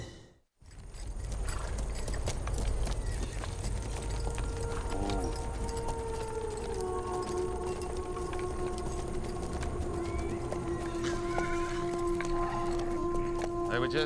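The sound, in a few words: horses running away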